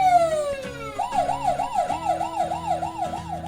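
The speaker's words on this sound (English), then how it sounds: "That sounds just like an ambulance." Emergency vehicle siren from a toy ambulance: a falling tone gives way to a rapid, steady wail that rises and falls over and over, loud and close, with a low motor hum beneath and no talking.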